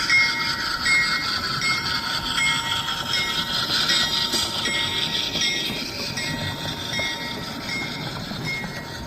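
An Amtrak train runs past on a model railroad layout, giving a steady, close rumble with a continuous metallic wheel hum and faint squeal throughout, with no pauses.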